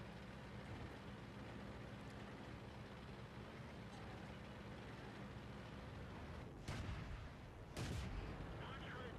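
Artillery shell fire from an M7 in a tank video game: two loud, sharp blasts land near the end, the second heavier, over a steady rumble of engine and battle noise.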